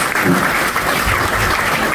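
Loud, close applause rolls through an awards ceremony crowd, a thick continuous wash of clapping with a little low murmur beneath.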